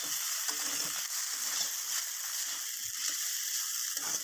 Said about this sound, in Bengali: এবার এটাকে ভালো করে মিশিয়ে নিলাম।